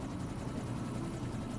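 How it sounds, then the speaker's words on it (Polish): Continuous low engine drone of a helicopter in the Quantum Break video game, a steady, unbroken rumble with nothing else on top. "No, słyszę helikopter."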